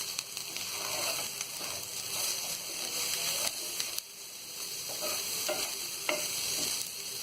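Vegetable dalia being stirred in a pan after salt goes in, a steady close sizzle of frying with a spoon scraping and clicking against the metal throughout.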